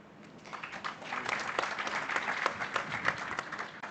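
A seminar audience applauds at a 2024 South African nuclear event, a dense, steady patter of many hands clapping for about four seconds with no break.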